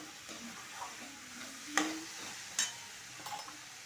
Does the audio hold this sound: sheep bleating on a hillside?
no